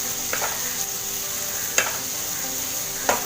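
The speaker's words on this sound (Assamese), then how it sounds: "হাই ফ্লেমত ফ্ৰাই কৰি থাকিলে হ'ল।" Chicken masala with tomato and potato frying in a pan on high flame, a steady close sizzle with a few brief stirring scrapes, no talking.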